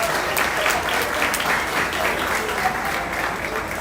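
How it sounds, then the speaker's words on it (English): Audience at a La Salle swine show applauds the exhibitors with dense, steady clapping that fills the whole stretch, a few voices mixed into the crowd. "Let's give all these exhibitors a nice round of applause."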